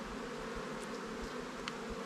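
Honey bees hum around an open hive in a newly set up bee yard near an alfalfa field, a continuous close, dense buzzing drone with a few individual bees passing nearby.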